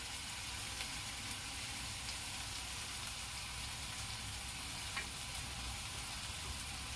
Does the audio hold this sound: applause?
no